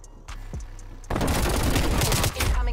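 A few faint knocks and a brief thump lead into dense, loud automatic fire from an MP5 submachine gun in a first-person shooter, a rapid volley that keeps going with one short break.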